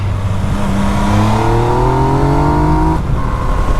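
A Yamaha MT-09 SP motorcycle engine revs up steadily through climbing gears on Italy's Stelvio Pass, loud and close, with a brief dip near the end before the pitch resumes; no one speaks.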